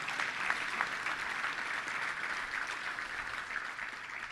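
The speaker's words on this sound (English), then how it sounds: "Let's give a big round of applause to all of them." Audience at a touchdown club luncheon applauding sponsors in a steady, dense wash of clapping lasting several seconds, even in level and unaccompanied by talk.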